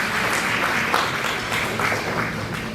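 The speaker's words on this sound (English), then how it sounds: "I'd like to give the panelists a round of applause." A room full of people claps for the panelists at an Indo-American community celebration of America's 250th anniversary, sustained and fairly dense, with a few sharper claps standing out near the close.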